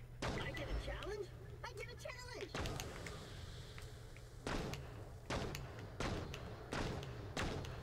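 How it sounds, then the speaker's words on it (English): An automatic pistol fires in Borderlands: The Pre-Sequel, with sharp bursts of shots spaced through the clip over game sounds, while a player talks in between. "I like this pistol. It's automatic."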